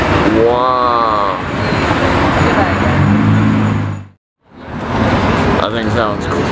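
A BMW M4 roars past at a car show, its loud engine rising and falling in pitch before briefly cutting out, then returning, with people talking excitedly nearby.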